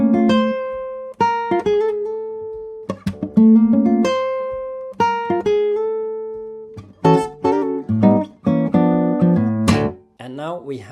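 An acoustic guitar plays the A section of a jazz standard, with plucked melody notes and ringing chord stabs in a steady, syncopated rhythm. It sounds close and solo, with no talking.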